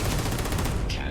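Rapid gunfire in the sci-fi game Starfield, a dense burst of overlapping shots lasting about a second, loud and close.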